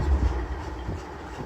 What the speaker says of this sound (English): saw this train up here and heard it sitting here running